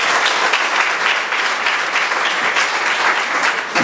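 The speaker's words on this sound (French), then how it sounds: "messieurs, faites des acclamations pour vous d'abord" A comedy show audience in Uvira applauds in a loud, dense, continuous burst of many hands clapping, sustained evenly throughout with no talking over it.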